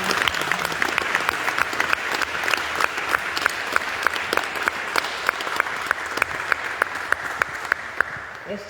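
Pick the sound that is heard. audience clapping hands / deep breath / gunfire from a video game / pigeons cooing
audience clapping hands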